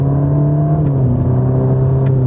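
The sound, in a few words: Ferrari Roma driving on a demanding road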